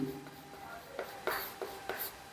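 A pen writes out a math solution on paper, giving soft scratchy strokes in a few short bursts with quiet pauses between, close and fairly faint.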